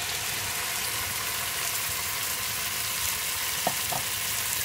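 Fresh tomatoes and a large sprig of thyme sizzle loudly in a pan as they are stirred for a coconut-milk chickpea dish. The steady frying hiss carries a couple of faint clicks from the utensil.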